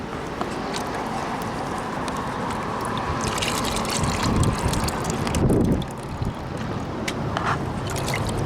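Gusty wind buffets the microphone outdoors on a windy day during gold panning, a constant rushing roar with a couple of stronger gusts midway and faint water sloshing.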